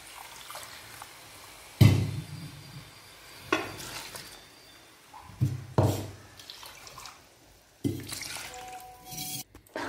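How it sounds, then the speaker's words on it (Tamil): Water poured into a pot of yam kara kuzhambu, a tangy tamarind curry with roasted coconut, curry leaves and ground tomato, heard as repeated splashing and sloshing bursts with bubbling and stirring between them, close by. "தண்ணி ஊத்துங்க அவ்வளவுதான்"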